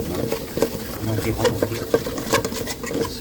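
Green curry paste is stirred with coconut cream in a pan, a steady low bubbling sizzle with repeated soft scrapes and taps of the spoon, while someone talks over it.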